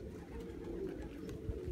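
Pigeons cooing in a low, steady murmur of soft throaty calls that continues throughout, with a faint background hum.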